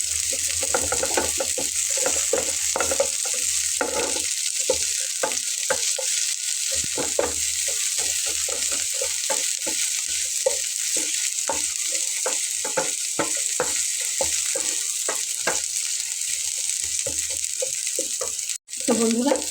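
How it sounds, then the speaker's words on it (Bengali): Sliced onion and garlic sizzle in hot oil in a pan, with a steady hiss beneath repeated scraping and clacking strokes as a spoon stirs them, continuing throughout with only a brief break near the end. "এখন আমি পেঁয়াজ এবং রসুনটাকে ভেজে নেব।"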